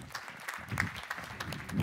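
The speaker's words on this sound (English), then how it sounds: "A round of applause." Light scattered applause from a modest audience at a deep-tech startup panel stage, a few distinct claps over a soft, uneven patter.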